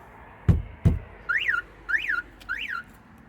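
StarLine car alarm warn-away on an Abarth 595: two sharp chirps followed by three short rising-and-falling electronic warbles, close and clear with no talking.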